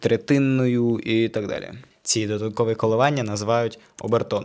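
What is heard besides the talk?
No everyday noises stand out.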